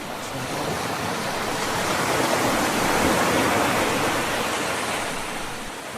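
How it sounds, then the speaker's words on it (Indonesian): Waves break on a beach in one steady, roaring wash of surf that swells slightly toward the middle and eases off at the end, loud and continuous with no voices. "ternyata suara debur ombak di tepi pantai"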